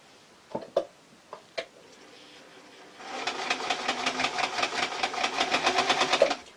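A few light clicks of handling, then a basic modern sewing machine runs steadily, stitching a French seam on a tee shirt dress with a rapid, even, close mechanical chatter.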